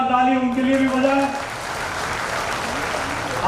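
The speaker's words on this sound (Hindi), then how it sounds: "एक बार ताली उनके लिए भी बजाएं।" Crowd at a political gathering applauds, a sustained wash of clapping that starts under a speaker's amplified voice and carries on alone after the talking stops.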